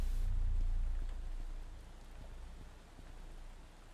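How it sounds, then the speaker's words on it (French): Steady rain falls in the video game Devilry, a dense, soft hiss of drops that swells slightly at first and then settles into a continuous, even patter with no voices. "Ah, puis il pleut en plus."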